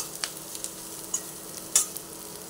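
A potato mixture for rice chops fries in a pan, a low sizzle under brief clicks and scrapes of a spatula stirring it, close and alone.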